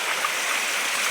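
Floodwater from heavy rain streams along a field channel, an even, unbroken rushing hiss heard up close without any voices.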